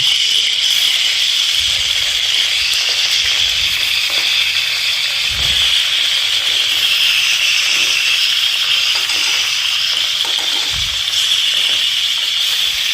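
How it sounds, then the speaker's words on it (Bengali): Hilsa fish pieces rubbed with salt and turmeric sizzle in a small amount of oil, a steady bright hiss of frying that holds evenly throughout, with a few low knocks of the pan underneath and no talk. "এবার ইলিশ মাছগুলোকে ভাজবো"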